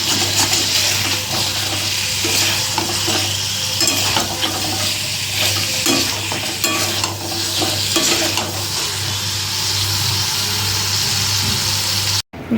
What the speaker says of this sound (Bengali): আর এখানে মাংস কষা হচ্ছে